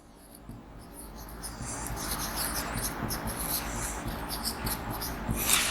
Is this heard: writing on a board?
yes